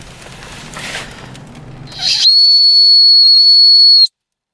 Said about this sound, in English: so that's how the emergency whistle works